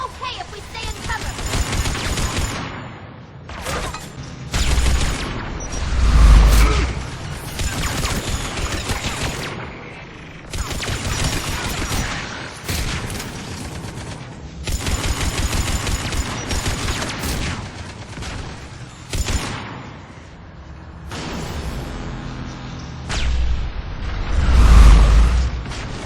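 Heavy gunfire and booming blasts from a big gun in a Mass Effect 3 firefight, loud bursts recurring throughout amid mechanical clatter, with voices talking over the battle.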